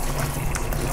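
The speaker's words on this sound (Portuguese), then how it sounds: "vamos começar molhando a luva" Tap water runs steadily over a white goalkeeper glove to wet it before washing, a continuous close splashing gush with no pauses.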